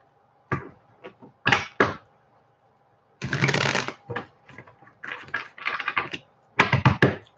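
A tarot deck is shuffled by hand in several bursts: short riffles early on, then a longer run and a string of quick ruffles, close and crisp against near silence.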